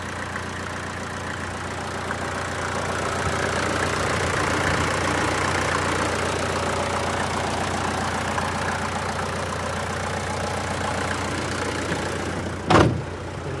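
A Mercedes W123 engine idles steadily with a low, even hum and a slightly knocking rhythm, then a brief sharp clunk sounds near the end.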